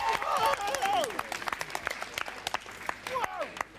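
A studio audience claps for five children's finalists at a live 1993 Comic Relief broadcast, a loud burst that fades into scattered claps under a presenter's excited talk.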